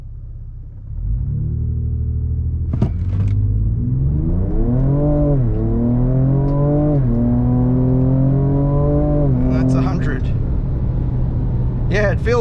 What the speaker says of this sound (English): So I'll bring the engine revs up a little bit on the brake just to help it get a slingshot start.